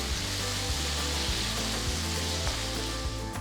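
Onion and finely chopped small tomatoes sautéing in a pan for a sour greens and soya curry, giving a steady close sizzle with a low rumble throughout, no talking.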